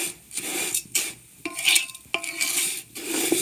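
A spoon scrapes and stirs vermicelli in a pan over low heat, with repeated rasping strokes and soft metallic clinks in an uneven rhythm, close by and with no talking.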